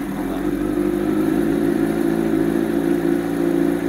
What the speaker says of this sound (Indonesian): ini suara idol dari Z900